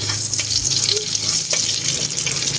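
Garlic sizzles in a hot pan for tokwa't baboy, a steady crackling hiss with a low kitchen hum underneath, close and without talk.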